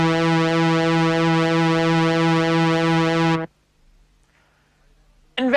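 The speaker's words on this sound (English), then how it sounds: "This is called pulse width modulation," Synthesizer pulse wave with its width modulated by an LFO, a sustained bright, buzzy note with a subtle phasing shimmer, played alone for over three seconds before stopping abruptly into near silence.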